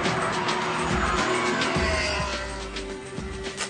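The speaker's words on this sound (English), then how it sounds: "goes sideways really well. Sounds nice, it's beautiful." Ferrari sports car sliding sideways on a test track, a loud engine roar with rising and falling revs and a strained tire squeal through the slide, close and continuous without any talk.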